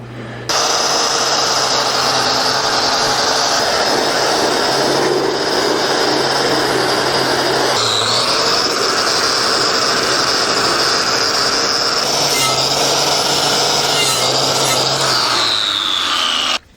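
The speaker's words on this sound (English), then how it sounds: "I'm going to just go ahead and wire wheel this whole thing and all the gasket surfaces" A power tool fitted with a wire wheel scours the gasket surfaces of a Cat D4 transmission housing, producing a loud, constant, harsh whirring grind that runs nearly unbroken for about sixteen seconds with slight pitch wavers.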